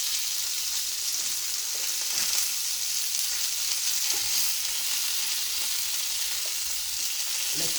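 Rosemary garlic lamb chops sizzle steadily in a hot pan, a continuous bright, crackling fry with small pops, close up and without any talk.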